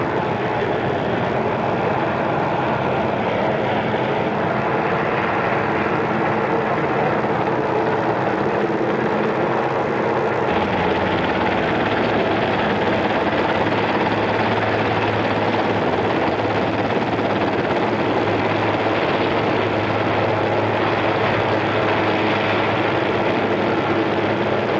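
A helicopter drones steadily in flight throughout a news report, with a dense, continuous rotor and engine roar at constant loudness and no talk.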